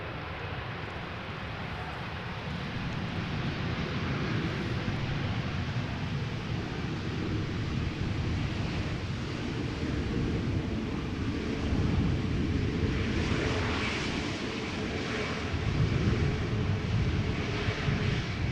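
An airliner on approach to land at Amsterdam Schiphol Airport, a steady broad roar of jet engines and rushing air heard from a distance outdoors, swelling slightly toward the end.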